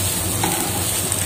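Cooked soya chunks being stirred into masala frying in a pan, giving a steady close sizzle with soft stirring scrapes and no talking.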